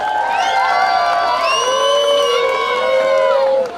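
Loud, sustained crowd noise at a Samajwadi Party political rally, with cheering, shouts and whoops filling the whole stretch and clapping mixed in, before it dips slightly at the end.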